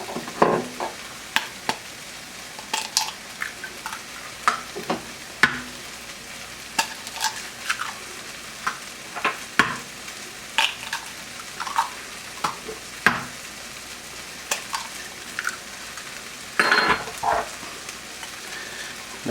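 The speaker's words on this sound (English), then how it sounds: "we're going to go ahead and scramble up our eggs." Eggs being scrambled in a pan for Turkish menemen, with a low sizzle under scattered scraping and tapping of a utensil against the pan, moderately close, with no voices.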